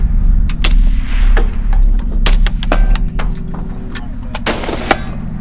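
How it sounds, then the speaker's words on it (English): Sharp gunshots from M110 SAS semi-automatic and M24 sniper rifles ring out repeatedly at an Army live-fire sniper range, loud cracks spaced irregularly over a steady low engine-like rumble. "Today, we're primarily firing with the M110 SAS, the semi-automatic sniper system, and the M24 sniper weapon system."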